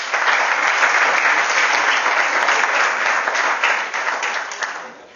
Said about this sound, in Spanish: A todos ellos en su conjunto les ofrecemos un fuerte aplauso.